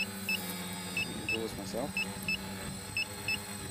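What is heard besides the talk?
flight timer warning beep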